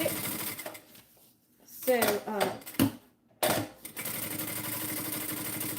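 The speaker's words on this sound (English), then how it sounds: "And I'm going to baste it in place. Just very quickly, just baste it." Sewing machine quickly basting a bag piece in place, a steady mechanical stitching hum running through most of the clip with a short pause and brief speech in the middle.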